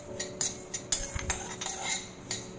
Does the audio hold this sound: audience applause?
no